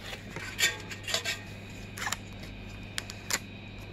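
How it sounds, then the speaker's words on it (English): Tape is peeled off a be quiet! Shadow Rock 3 CPU cooler in a few short, close rasping rips with quiet gaps between them, over a low steady hum. "we're going to take the tape off"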